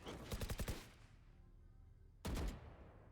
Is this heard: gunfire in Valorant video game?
yes